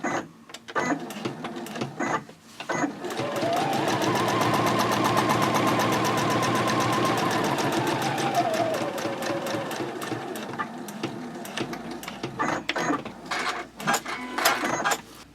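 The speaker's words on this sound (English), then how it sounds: "I'm just going to quilt down on these lines" A sewing machine quilts straight lines on a fabric pouch, running in a long steady whir that follows a few short stitching bursts, then ends in more short bursts near the end, with no talking.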